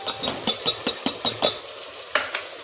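A spoon stirs ginger garlic paste frying in oil in a pan, giving a series of sharp scraping strokes in quick irregular rhythm over a soft sizzle, close and moderately quiet.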